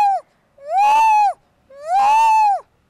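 A woman mimics a monkey with two loud, drawn-out calls that bend up and then down in pitch, separated by a short silence. The calls are close and stand alone, with no talking.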